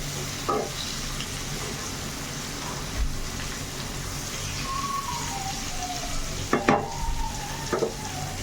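Whole pointed gourds frying in oil give a steady, dense sizzle throughout, broken by a few clacks and scrapes of stirring near the end, with faint background noise but no talk.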